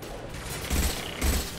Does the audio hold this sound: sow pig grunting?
no